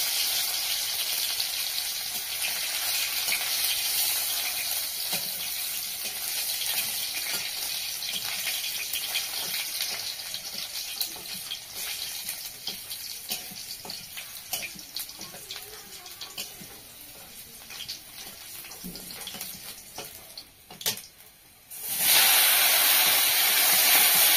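Panch phoron spices and garlic frying in hot oil for a Bengali kochu flower dish, a steady broadband sizzle running throughout with small crackles, then turning louder and harsher near the end.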